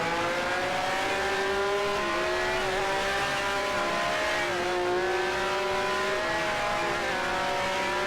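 Race cars, a Lotus and a Ferrari, in a sim racing game, their engines droning steadily at a distance with pitch rising and dipping through gear changes and corners, alone with no talk.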